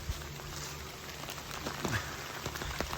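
Steady rain falls on a forest trail in West Virginia, a dense even patter of drops on leaves and ground with a few sharper nearby drips, continuous throughout.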